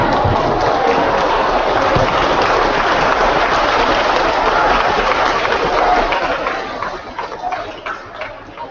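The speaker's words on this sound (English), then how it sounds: "students, I'm going to ask you to stand up and give them a round of applause as they're leaving" Students stand and applaud visiting Canadian Olympic athletes as they leave a school gym, a steady, dense wash of clapping that holds for about six seconds, then tapers off.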